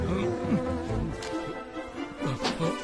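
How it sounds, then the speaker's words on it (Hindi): A bee buzzes nearby with a wavering drone that rises and falls as it moves around. "मधुमक्खी!"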